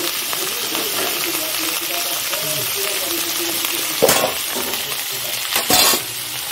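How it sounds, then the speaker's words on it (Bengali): Eggplant and chili dropped into a hot frying pan for a fish curry, giving a steady loud sizzle and hiss throughout with two sharper bursts of spattering near the end. "বেগুনটা আর লঙ্কাটা দিয়ে দিলাম।"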